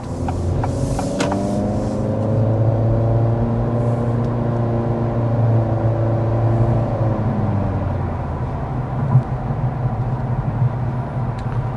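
A 2025 Acura Integra cruising down the road, a steady low engine and tire drone with road rumble heard from inside the cabin, even and unbroken, with a faint bump near the end.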